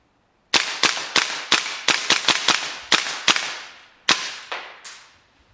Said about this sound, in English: Last shot, bolt locks back on you, letting you know it's time for that mag change.